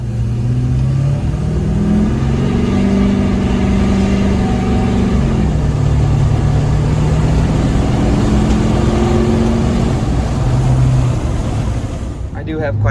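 Duramax diesel pickup exhaust through a 5-inch straight pipe, a loud close deep drone that swells and settles over several seconds, with a voice speaking over parts of it.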